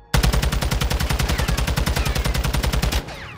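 Rapid automatic gunfire in a video game, roughly two dozen loud, evenly spaced shots in an unbroken burst lasting about three seconds, then stopping abruptly with a short trailing echo.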